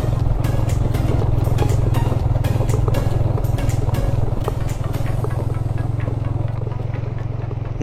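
A motorcycle bumps along a rough, disused railway line between Tagog Apu and Cipatat. Its steady mid-pitched engine drone runs beneath repeated clattering knocks and thuds as it jolts over the uneven track.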